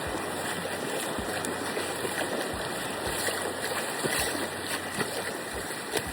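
A mountain stream flows steadily, not very strong, with a broad, continuous rushing noise and a few soft low knocks, no voices.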